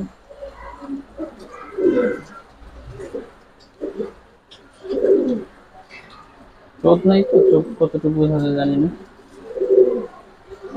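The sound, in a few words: Babu breed pigeons cooing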